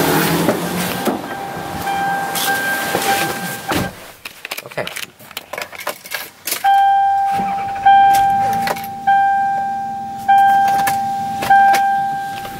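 A 1998 Toyota Camry XLS sedan with an engine misfire starts a test drive: engine and cabin rumble, clicks and rustling, then repeated electronic chime tones over a low engine hum as it gets moving.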